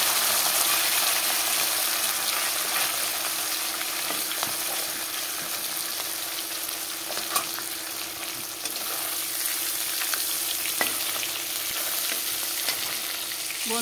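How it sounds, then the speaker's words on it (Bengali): Fish heads frying in hot oil in a wok, a loud, continuous close sizzle with a bright steady hiss and occasional crackling spits, heard alone without speech. "মাছের মাথাগুলো তেলে দিয়ে দিলাম।"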